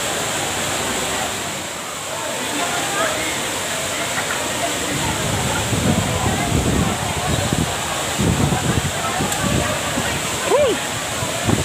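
Heavy rain pours steadily over an outdoor centennial gathering in Tarlac, a dense continuous wash of falling water with scattered low rumbles and thuds throughout.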